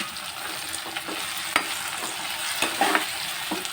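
Chopped tomatoes fry in a hot pan for a Maharashtrian green-garlic vegetable bhaji, with a steady close sizzle and occasional scrapes and clinks of a spatula stirring them.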